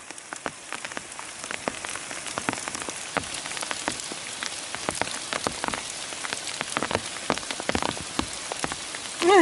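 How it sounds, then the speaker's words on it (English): Hail falling on a hiker's umbrella on the Pacific Crest Trail, a dense, steady patter of sharp, irregular ticks close overhead, continuous throughout with no talking. "And now it's hail."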